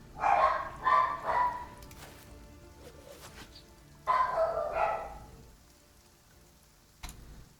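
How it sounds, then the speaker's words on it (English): Three quick dog barks ring out close together, followed after a pause by another burst of barking, over a soft rain-like background hiss and a faint late click. "Your dog's quite concerned?"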